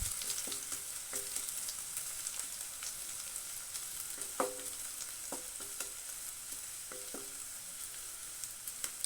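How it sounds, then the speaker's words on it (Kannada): Finely chopped ginger sizzles in hot oil in a pan for gobi pepper dry, a steady hiss broken by occasional scraping clicks of a spoon stirring. "ಇದು ಚೆನ್ನಾಗಿ ಫ್ರೈ ಮಾಡಬೇಕು."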